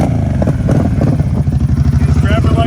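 A Kawasaki KFX700 ATV with a 700cc four-stroke V-twin runs close by, a loud, rapid, pulsing engine rumble throughout, with a voice speaking over it.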